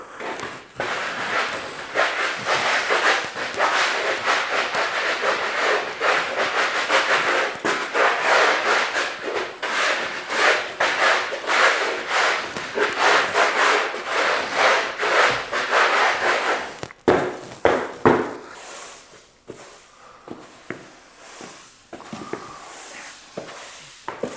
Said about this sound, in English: let's dump some sand on here. And let's see what she's gonna do.